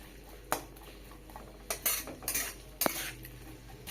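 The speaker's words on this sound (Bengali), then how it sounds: "অল্প নাড়াচাড়া করে নেব।" Chopped onion frying in oil in a wok while being stirred, several distinct metal spatula scrapes and clinks against the pan over a faint low sizzle, close and fairly quiet, no voices.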